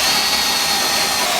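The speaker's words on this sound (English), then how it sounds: "Now I'm going to use a step drill to get up close to that" Steady high-pitched whine of a step drill boring a hole in metal while mounting a transmission cooler on a 1949 Chevrolet gasser, loud and close, continuous without pauses or voices.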